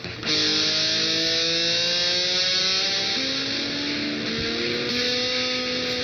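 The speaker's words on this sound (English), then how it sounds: "And this is the sound of an engine running." A loud engine revs in sustained, rising harmonic tones, droning steadily without a break.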